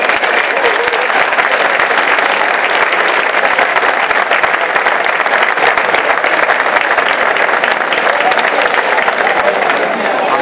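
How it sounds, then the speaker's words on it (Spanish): A crowd applauds steadily and loudly throughout at the Villarcayo La Guinda 2024 festival opening proclamation, a dense, even wash of clapping that continues without a break. "Por favor, un aplauso para La Gotera."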